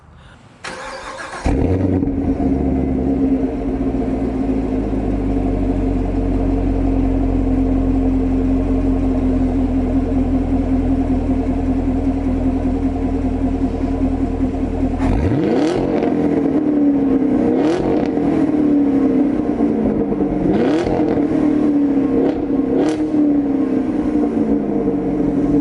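A Camaro SS V8 with its exhaust valves held open fires up with a loud bark, settles into a deep, rumbling idle, then gives several sharp throttle blips that rise and fall, all close and loud.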